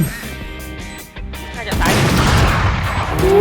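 Sniper rifle fire in the tactical shooter Valorant comes as a sharp, loud blast that cuts through game music and swells into a rumbling tail, with the sounds of play continuing after.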